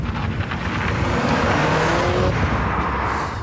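A Porsche accelerates hard on a road, its engine a loud, steady roar that holds throughout with a rising tone, alone with no talk.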